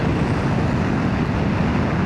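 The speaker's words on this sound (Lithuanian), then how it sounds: "bet žiauriai sukilo vėjas" Strong wind roars over a noisy motorcycle helmet on a windy evening ride, a dense, steady rumble and buffeting that fills the whole stretch without letting up.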